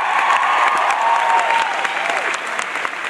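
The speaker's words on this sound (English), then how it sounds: "Give him a round of applause for that too." A crowd applauding steadily and loudly throughout, dense clapping that eases slightly toward the end.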